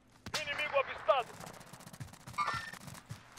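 Gunfire in the video game Call of Duty: Warzone, with a couple of quick bursts of automatic fire and scattered shots, moderately loud, mixed with in-game sounds and players talking.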